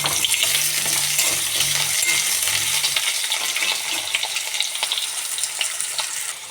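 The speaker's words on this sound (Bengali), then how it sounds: "আলুগুলো ভালো করে প্রথমে ভেজে নেব" Cut potatoes frying in a pan of hot oil seasoned with black cumin, a loud, dense, continuous sizzle close by, with occasional light clinks of a utensil and no talk.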